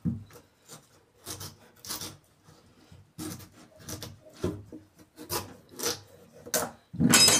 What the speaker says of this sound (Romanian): Acum noi tăiem dovleacul.